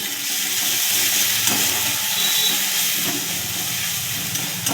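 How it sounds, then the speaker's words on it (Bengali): Ginger, garlic and green chili paste sizzles in hot oil with browned onions in a pan, a steady dense frying hiss that stays constant and close throughout with no talking. "আদা রসুনটাকে একটু কষিয়ে নেব।"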